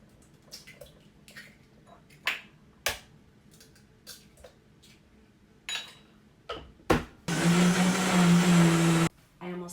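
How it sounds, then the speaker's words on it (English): A Vitamix blender whirs loudly through black bean brownie batter in one sustained burst of about two seconds near the end, preceded by scattered kitchen clatter and knocks. "pop that in the Vitamix, which is one of my favorite kitchen appliances"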